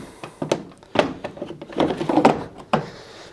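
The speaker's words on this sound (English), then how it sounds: "Replace the detergent drawer." Plastic detergent drawer of a Samsung washing machine being slid and pushed back into place during a heater repair, a series of close knocks and clunks with a firmer thud near the end.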